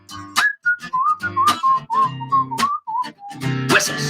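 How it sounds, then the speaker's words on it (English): A person whistles a melodic tune, a series of short and held notes, clear and close with no talking. "Whistles."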